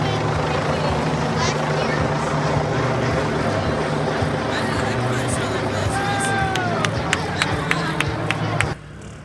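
A news helicopter overhead at a memorial 5K running event, its steady low rotor hum continuing under crowd noise, chatter and a few sharp chirps before cutting off near the end.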